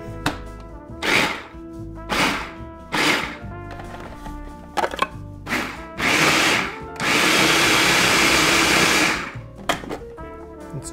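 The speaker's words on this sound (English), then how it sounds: "in the food processor goes the leg and wing meat as well as the heart" A food processor chops duck leg and wing meat, heart and sautéed onions for a Julia Child duck pâté, in a series of short loud pulses followed by one longer whirring run, then a few final pulses.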